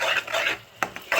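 Onions, ginger garlic paste and green chillies are stirred in a pan in circular motions for chole, giving close, bright scraping and clinking strokes in quick bursts with a short pause in between.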